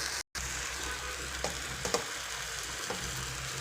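Boiled potatoes and paneer hit a hot pan for matar paneer, giving a steady low sizzle with a few soft scrapes and clicks of a spoon.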